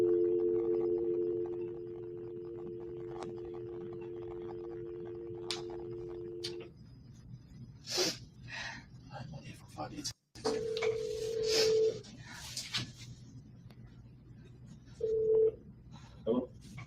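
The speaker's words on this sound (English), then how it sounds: "so let's just dial it one more time." Telephone keypad tones as a number is dialed, a steady dial-type tone for several seconds followed by short beeps and clicks, with brief voice fragments and a later tone burst, recorded at moderate level.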